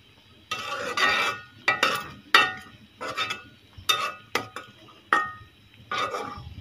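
A utensil stirs bitter gourd and okra frying in a pan, producing about nine sharp scraping clinks at an uneven pace over a quiet background.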